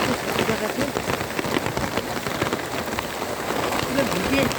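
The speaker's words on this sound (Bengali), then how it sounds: "বৃষ্টি হচ্ছে সব জায়গাতে" Heavy rain pours everywhere, drumming densely and loudly on nearby surfaces in a continuous patter, with a person speaking over it.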